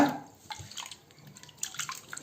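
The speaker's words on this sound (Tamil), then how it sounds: "இப்போ இந்த மூடியிலே நான் வந்து கொஞ்சம் மசாலா இருக்குது, அதுக்காக நான் கொஞ்சம் தண்ணி சேர்த்துருக்குறேன்" Water poured into a pot lid to rinse leftover masala for dried anchovy gravy, heard as a brief, soft splash and trickle in a quiet kitchen.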